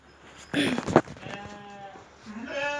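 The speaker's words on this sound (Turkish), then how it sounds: "Ercan amcam koyun kırkıyor" A sheep bleats a couple of times nearby during shearing, its wavering cries rising over background voices and farmyard noise.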